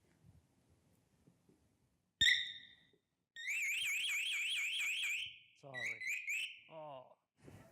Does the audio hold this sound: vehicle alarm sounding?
yes